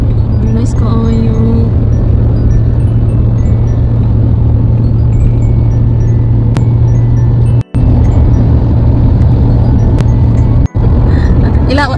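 A car drives past outdoors at night amid light decorations, with a loud steady engine rumble throughout and a few brief gaps in the sound; a person speaks over it.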